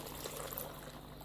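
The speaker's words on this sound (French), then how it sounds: "Ensuite, j'ajoute 1 litre d'eau." A litre of water pours into a Compact Cook Elite pot, a steady, fairly quiet splashing stream that runs for just over a second.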